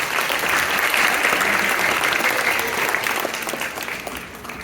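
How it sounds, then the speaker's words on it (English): Audience at a science fair presentation on electricity claps together, a dense burst of applause that holds steady before tapering slightly toward the end, moderately close. "Let's have a round of applause."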